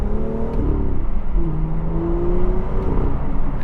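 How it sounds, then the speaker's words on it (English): Turbocharged N55 inline-six of a BMW F87 M2 drones and revs from inside the cabin, its pitch rising and falling smoothly through the gears with a steady, moderately loud engine tone. "N55, it's the pinnacle of turbocharged BMW sound to me. Just listen to it."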